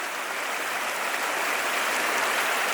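A mountain stream flows steadily with a constant broadband rush of water, close and continuous, with no voices.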